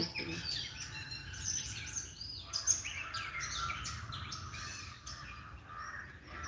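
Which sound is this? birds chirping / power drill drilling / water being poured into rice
birds chirping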